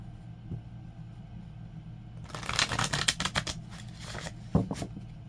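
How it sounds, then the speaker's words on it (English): Rapid riffling and slapping of tarot cards being shuffled, a crisp burst of flicking that starts after a quiet pause and fades with a final tap. "Okay, shuffling one more time."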